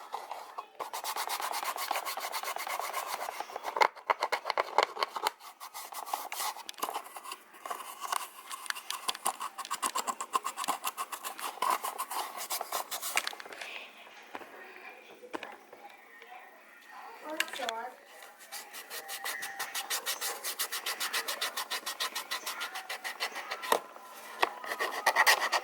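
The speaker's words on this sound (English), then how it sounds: "I'm going to scrub, kind of like make it a little bit like scrubbing, just with my finger." A fingertip scrubs crayon marks off a plastic toy house, giving dense, rapid scratchy rubbing strokes close up, in bursts with short pauses, and a voice is heard at times.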